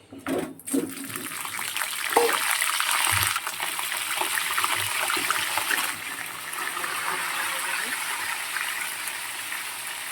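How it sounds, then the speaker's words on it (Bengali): Pointed gourd (potol) pieces dropped into hot oil in a pan, a sharp clatter at the start followed by a loud, continuous sizzling hiss that holds steady throughout, with light background talk. "তেল আছে, পটলগুলো দিয়ে দিচ্ছি।"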